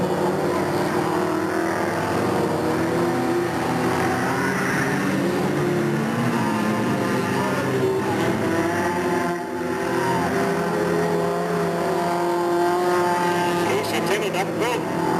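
Race cars roar around the oval at Delta Speedway in 1997, giving a continuous loud engine drone with shifting pitch. An announcer talks over the cars throughout.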